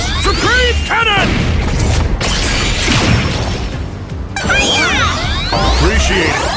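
A Supreme Cannon attack in Digimon Story Time Stranger unleashes a loud, booming blast with sweeping whooshes and sharp crashes, set among chirping creature cries and swirling electronic effects.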